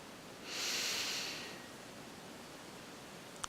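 A single slow, soft inhale during a meditation exercise, a gentle airy breath lasting about a second, followed by near silence.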